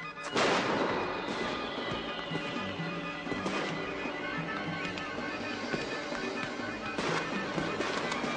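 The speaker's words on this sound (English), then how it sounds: "What with all this laughing and fireworks, it'll be a long time before we get any peace tonight" Fireworks crack and boom in a 1973 British film, several sharp bursts spread across the stretch with rattling crackle and a background wash between blasts, no talk heard.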